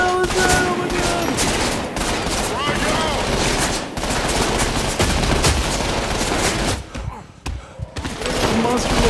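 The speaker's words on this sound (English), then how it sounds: "Oh, they're shooting at him too!" Dense, sustained enemy gunfire from the Trepang 2 shooter, with rapid automatic bursts and heavy volleys filling the clip almost without pause, loud and close, briefly thinning near the end.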